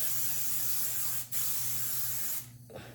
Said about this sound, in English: take the spray and spray it.